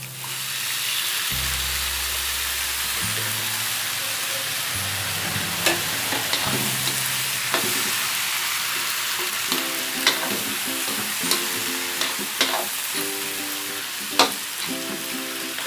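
Tomato sautés in a pan for a basic pureed sauce, with a constant bright sizzle and periodic clinks and scrapes of stirring, no voices.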